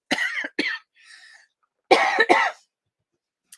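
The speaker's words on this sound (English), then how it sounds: "I'm sorry I coughed into your ears" Several close, loud coughs come in two pairs with a short pause between, followed by a faint breath and a tiny click.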